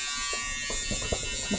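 Peggy's Stitch Eraser electric fabric shaver gliding over fabric and shaving off fuzz: a close, steady motor buzz that swells and dips in short strokes.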